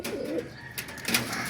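Tippler pigeons in a home loft with young birds and eggs give soft, low cooing that swells in short throaty bursts, close and fairly quiet.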